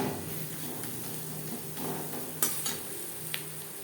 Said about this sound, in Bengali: লবণ হলুদ দিয়ে পেঁয়াজ লালচে করে ভেজে নেব